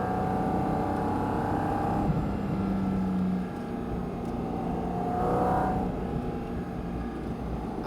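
A Porsche GT4 RS engine drones steadily under load, its pitch shifting up and down as the driver eases on and off the throttle, heard continuously from inside or near the car.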